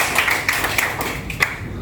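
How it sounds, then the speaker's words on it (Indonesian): A short burst of hand clapping from a small group, several quick claps in loose rhythm, moderately loud. "Tepuk tangan untuk kita."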